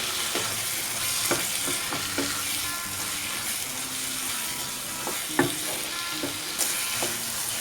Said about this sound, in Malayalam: ഇനി ഒന്ന് മിക്സ് ചെയ്ത് കൊടുക്കാം